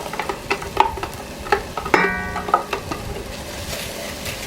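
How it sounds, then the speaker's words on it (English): Minced garlic and chopped sweet onion sizzle and fry in a pot over a sauce, with a steady crackle broken by repeated sharp scrapes and clinks of a utensil stirring, close and clear with no talking. "I'm going to saute the onion and garlic until the onion is a little translucent"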